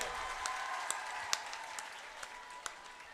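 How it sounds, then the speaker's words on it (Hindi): An audience at a student gathering claps for a child, a faint, thin spatter of scattered hand claps with a few sharper individual claps over a quiet room hum. "एक बार जोरदार तालियां इस बच्चे के लिए।"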